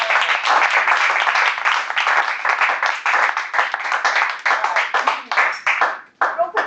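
Applause from the audience at a Toastmasters club meeting, a dense continuous patter of many hands clapping that holds loud for several seconds before thinning out and briefly breaking off near the end.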